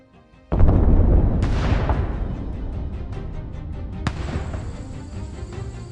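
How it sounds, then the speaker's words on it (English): A booming burst of gunfire and artillery for a Battle of Gettysburg scene erupts suddenly, rumbling loud and close before a second sharp blast re-echoes into a long decaying roll. "The first shot on July 1 was fired at 7:30 a.m."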